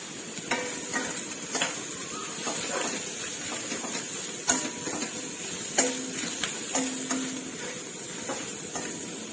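Mee sua noodle ingredients being stir-fried in a pan give a steady sizzle under scattered scrapes and clinks of a utensil against the metal, close and fairly loud, with no one speaking.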